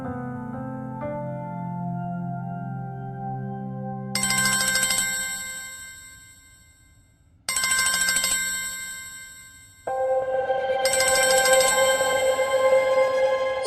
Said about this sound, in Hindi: ये लवली क्यों फोन कर रही है मुझे?